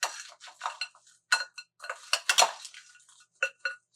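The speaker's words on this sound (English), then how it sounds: "Let me go ahead and mix up this broccoli." Frozen broccoli is mixed with a spoon in a pan. Close clinks and scrapes of metal come in irregular bursts, some in quick clusters, with silence between them and no talking.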